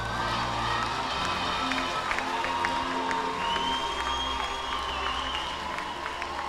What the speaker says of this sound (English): Audience, you may now applaud the gentlemen of 5 Remarkable.